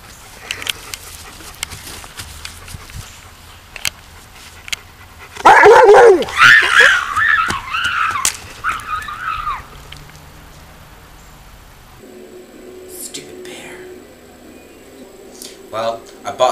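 An old dog barking and yipping in a loud burst of several sharp barks partway through, with quieter whimpers and yelps around it and people talking at other moments.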